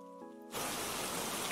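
A soft electronic tone gives way abruptly to steady, loud rain noise in an ASMR setting, continuing as a broad, even hiss without talking.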